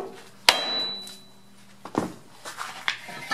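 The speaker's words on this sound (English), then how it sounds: "That was a rubber mallet." A rubber mallet strikes a brake rotor on a Dodge Grand Caravan during a rear brake job: one sharp loud blow, then after a pause a few lighter knocks and taps that fade out, with no talk.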